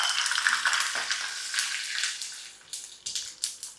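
Mustard seeds splutter and pop in hot oil in a pan, a close, dense crackling sizzle that thins into a few separate louder pops toward the end.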